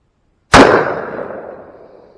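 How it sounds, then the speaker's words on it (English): A single loud, close gunshot from a firearm fired outdoors during a kids' firearm safety lesson, a sharp crack after brief silence followed by a long fading echo. "Now you got to take it off the safety, and then you're firing."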